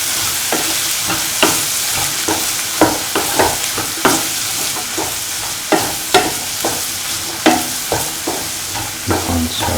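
Ginger, garlic and mustard seed sauteing in a pan for a bitter gourd pickle, with a steady loud sizzle and repeated stirring scrapes close by, no talking.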